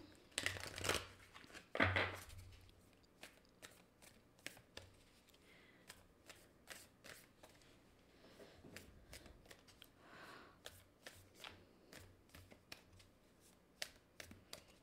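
Tarot cards are shuffled in a couple of brisk riffling bursts, then drawn and laid down with soft, scattered taps and flicks in a quiet room.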